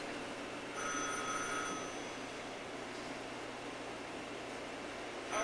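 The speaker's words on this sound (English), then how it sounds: "Answer the phone." Telephone bell ringing in an old film scene, a faint shrill ring near the start over steady background hiss, no speech.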